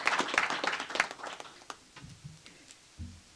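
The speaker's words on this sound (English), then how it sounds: "Thank you for your applause" Applause from an audience at a city gathering honouring sheriff's deputies, a short burst of clapping that quickly thins to scattered claps, then a voice begins.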